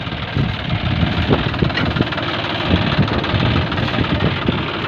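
A tractor engine runs steadily close by in a wheat field, pulling a pair-mounted reaper, its low idling rumble and knocking vibration continuous throughout without any talk.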